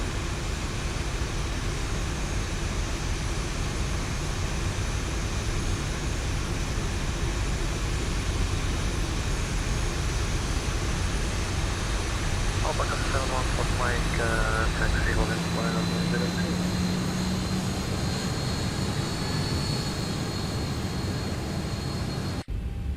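A Boeing 737 in the X-Plane flight simulator taxis, heard from outside as a constant loud engine roar and airflow hum that holds steady throughout, with a brief higher whine partway through before the sound cuts off.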